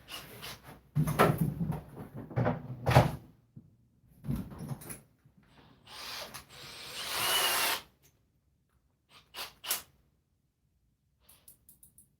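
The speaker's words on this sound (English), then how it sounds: "Get this drilled out here somewhere." Short bursts of a power drill whirring while drilling a hole in a birdhouse, interspersed with handling clatter and quiet gaps, ending with a few soft clicks.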